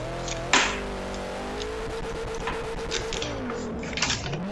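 A four-door Nissan Skyline R32 drives along steadily, its engine droning at a moderate level with slight pitch changes and faint clicks and knocks from the cabin.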